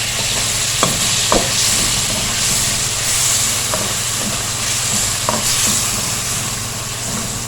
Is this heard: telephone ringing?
no